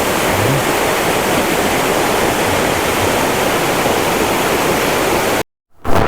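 Lodh Waterfall in Latehar, Jharkhand, the state's highest falls, roars as a loud, steady, dense rush of falling water that cuts off abruptly near the end.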